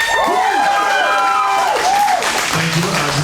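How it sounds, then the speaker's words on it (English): A convention crowd at a My Hero Academia cast panel at FarleyCon 2025 applauds and cheers the guests, with dense clapping and rising whoops and shouts blending into a loud, continuous roar. "let's go ahead and get a round of applause for our guests"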